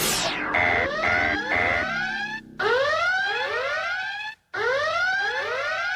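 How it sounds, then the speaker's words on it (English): A loud electronic warning siren blares in repeated rising sweeps, preceded by rapid beeping tones, with two abrupt cut-outs before the wail resumes. "Did I hit the warning siren?"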